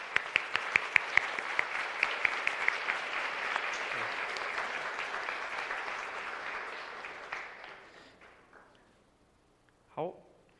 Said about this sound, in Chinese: 掌声。